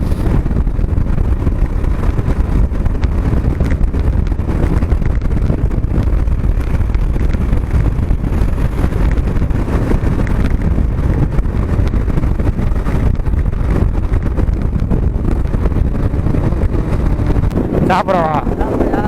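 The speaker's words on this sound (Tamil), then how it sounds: "என்னங்க இது இவ்வளோ காற்று அடிக்குது இன்னைக்கு பார்த்து" Strong wind roars and buffets the microphone nonstop, a heavy low rumble, with voices half-buried underneath, on a motorbike ride near Kuruvithurai waterfalls.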